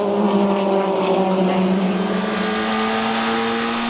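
Race cars at Zolder, including one with a 2-litre Renault Clio engine making 225 horsepower, roar past in a steady, loud engine drone with sustained harmonic whine and no voices.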